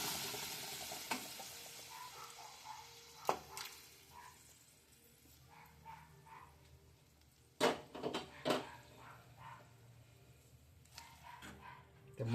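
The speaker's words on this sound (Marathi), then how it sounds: "बघा आपण आता मटण टाकून घेतोय." Mutton frying in masala sizzles quietly and steadily in a pan, while a dog barks in scattered bursts in the background.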